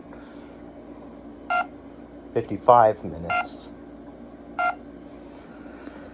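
Toy ATM keypad beeping in four short, spaced tones as buttons are pressed to set its alarm clock, with someone talking briefly between the beeps.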